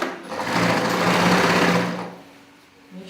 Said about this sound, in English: So right now I will start sewing.